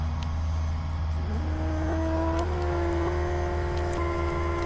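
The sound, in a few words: electric air pump inflating tent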